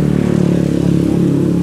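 A motorcycle engine runs close and loud, a steady low throbbing rumble with slight wavering and no talk over it.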